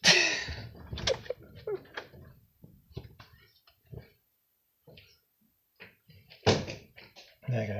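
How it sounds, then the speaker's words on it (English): A door is shut with a firm thud, followed by scattered knocks, creaks and handling noises from a room, with quiet gaps between the bumps and a louder clunk near the end. "Gotta close that door."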